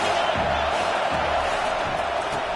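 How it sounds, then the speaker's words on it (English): A stadium crowd roars steadily during a third-down play in the college football video game NCAA 25 against Oklahoma, a loud, sustained wash of cheering that never lets up. "Third down, and this crowd is tearing the lid off this place."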